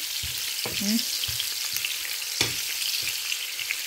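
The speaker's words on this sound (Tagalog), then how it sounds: "Sibuyas. Diyan na lang natin ilagay sa mantika na yan na pinagprituhan natin mga lalabs." Sliced onions sizzle and hiss steadily in leftover oil that was used to fry fish, with a few soft stirring knocks. No one speaks.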